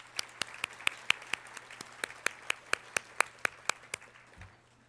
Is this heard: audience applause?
yes